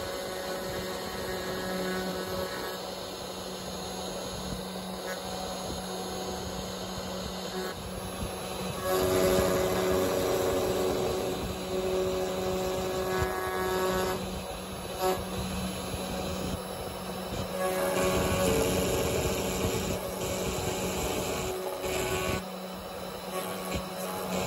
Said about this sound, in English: The CNC machine by FOXAlien, this basic edition, is a very capable machine on doing signs